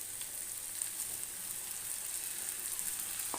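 Ground spice paste fries in a pan for a chana paneer dish, giving a steady, even sizzle throughout with no voices.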